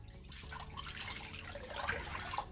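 Two quarts of water pour steadily into a pot on a smart induction cooktop, a soft continuous splashing and trickling that holds at an even, quiet level throughout.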